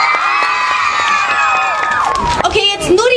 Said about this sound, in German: Können bitte jetzt erstmal nur die Mädchen jubeln und klatschen